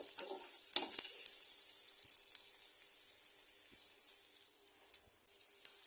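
Onions and spices frying in a pan, a faint high hiss of sizzling with a few brief scrapes or stirs near the start, steady and fairly quiet throughout.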